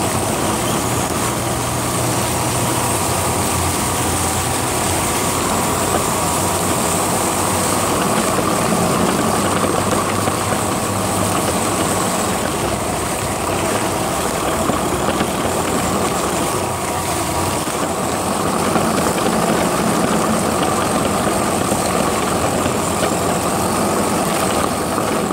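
HG 4WD RC trial truck crawling through a thick layer of fallen leaves, a steady close electric motor whine with rustling underneath, continuous for the whole stretch with slight surges.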